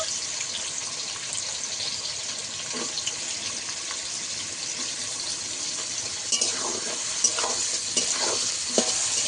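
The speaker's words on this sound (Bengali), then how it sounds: "গাজর আর বটবটি আমি একসঙ্গে ভালো করে ভেজে নেব।" Chopped carrots and beans fry together for hilsa fish fried rice, giving a constant crackling sizzle with stirring scrapes that grow busier and more clattery toward the end.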